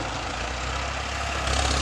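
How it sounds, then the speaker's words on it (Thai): A tractor engine runs steadily while plowing a field, a loud continuous low rumble close by with no talk over it. "วันนี้เป็นวันที่สองนะครับในการที่รถไถมาไถ"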